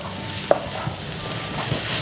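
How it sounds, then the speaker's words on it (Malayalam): Okra fry being stirred in a pan, with a low continuous sizzle and a few soft utensil clicks, one sharper tap near the start. "ഒന്നുകൂടെ ഒന്ന് മിക്സാക്കാം."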